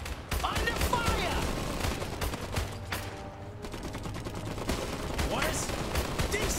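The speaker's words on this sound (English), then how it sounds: "They're shooting at us!" Gunfire in the video game Iron Harvest: rapid bursts and scattered shots rattle continuously from moderate distance, with shouted soldier voices breaking in over the battle.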